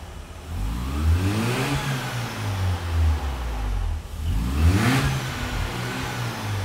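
A Mazda RX-7 rotary engine idles with a smooth buzzing tone, then revs up twice and falls back, the pitch sweeping up and down each time, heard up close.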